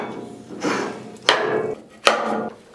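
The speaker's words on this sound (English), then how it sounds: "not forget a few more hammer swings" Three hammer blows land in a workshop, each a sharp crack followed by a brief ringing decay, spaced under a second apart and heard up close with no talking.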